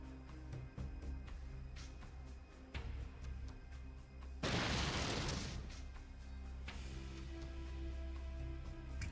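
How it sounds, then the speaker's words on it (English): A single burst of explosion noise erupts mid-scene in New Reno in Fallout 2, a loud noisy blast about a second long over a steady hum of game ambience and music. "Just a natural explosion they occur here in New Reno."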